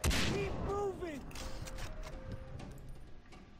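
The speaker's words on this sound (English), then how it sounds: "Stop shooting me." Bursts of gunfire in Far Cry 3 crack out loud at first, then settle into scattered, thinner shots with pinging tones and ambient game noise.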